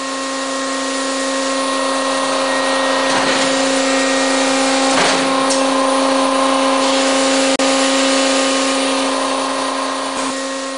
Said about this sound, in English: the MacLean scissor bolter has evolved into the safest, most productive, and versatile machine on the market